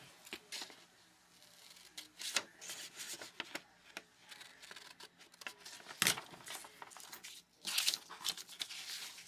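Paper being cut into a small square for a Christmas craft ornament: quiet, irregular snips and crinkly paper rustles in short bursts close to the microphone.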